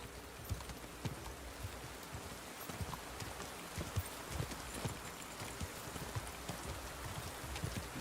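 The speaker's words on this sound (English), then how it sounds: "once I get this completely set up with my horse. I'll just ride everywhere" Steady horse hooves clip-clop in Kingdom Come: Deliverance II, a quiet, regular trotting beat over a soft rain-like ambient hiss, with no talking.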